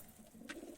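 A Medrasi pigeon cooing after release, a short soft low coo, faint and close, with no talk.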